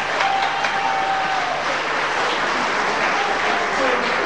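Sustained applause from a wedding crowd, loud and even, continuing for a few seconds without pause.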